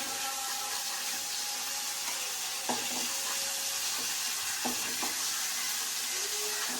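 Prawns frying in oil, making a steady broadband sizzle with a few soft clinks of stirring, close and continuous with no talking.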